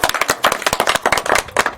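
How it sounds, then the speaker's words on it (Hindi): Loud, fast clapping from a crowd at a Chhattisgarhi comedy stage show, a burst of sharp, closely spaced claps close to the microphone. "जोरदार ताली बजाओ।"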